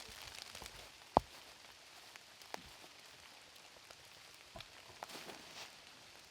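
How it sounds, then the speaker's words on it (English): Light, steady rain patters outdoors at a disc golf round, a faint continuous hiss dotted with scattered soft drop taps and one sharper knock, with no voices heard. "It's officially picked up from a sprinkle into a light rain."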